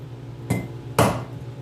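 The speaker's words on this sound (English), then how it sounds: "That's where you'll be able to tap on the race. Just keep going back and forth." Two sharp metallic hammer taps driving a bearing race out of a car brake rotor with a bearing, race and seal driver set, struck about half a second apart, close and loud with ringing decay.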